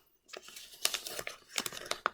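Thick paper is folded into a lotus shape by hand, giving close, crisp crinkles and sharp creasing crackles in irregular bursts, quiet but distinct, with no voices.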